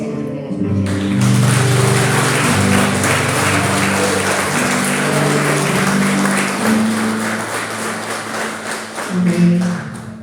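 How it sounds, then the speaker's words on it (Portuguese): A church congregation applauds during a service, with sustained clapping over sustained keyboard-like music chords. It swells quickly, holds for several seconds and then tapers, with a voice speaking over it. "Pode dar uma salva de palmas para a gente."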